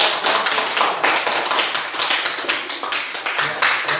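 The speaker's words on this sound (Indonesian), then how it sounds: "Kita berikan aplaus." A classroom audience claps together in steady, dense applause, with quick overlapping hand claps at an even pace throughout, close and fairly loud.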